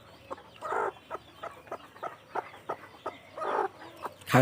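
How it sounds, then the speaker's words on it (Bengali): A Kadaknath hen clucking close by in a short run of soft, repeated clucks and throaty murmurs at an uneven rhythm, ending with a louder sudden sound, no talk. "এই যে আর একটা করকনাথ এখানে আছে।"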